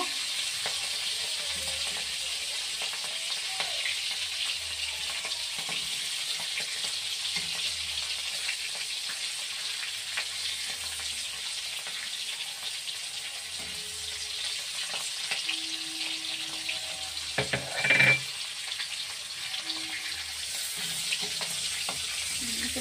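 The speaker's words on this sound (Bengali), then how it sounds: "আমার চিংড়ি মাছটা ভাজা হয়ে গেছে" Shrimp fry in hot oil for a yellow rice shrimp dish, giving a loud, steady sizzling hiss throughout with a brief metallic clink and stir near the end; no one speaks.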